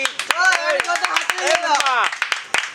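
A group claps in quick, irregular bursts during a lively home party game, with excited voices calling out and cheering over the claps.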